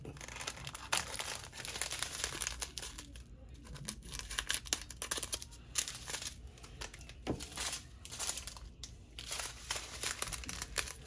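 Plastic bags crinkling and being cut open during an unboxing of Magic Portals by Enys Guerrero, a close stream of crackling rustles and snips with no talking.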